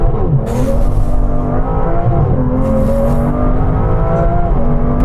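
An Aston Martin V12 Vanquish accelerating hard: a loud, dense engine roar holds up close with brief rising pulls as it runs through the gears, under steady road and wind noise.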